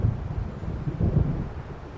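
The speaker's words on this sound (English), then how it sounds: "It seems there's a storm coming." Low rumbling thunder from an approaching storm in the video game Alan Wake Remastered, a steady dull roll with a swelling mid-clip peak beneath wind-like noise.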